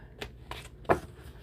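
A tarot card deck being shuffled by hand, three quick soft riffling bursts spaced evenly, close and fairly quiet with no talking.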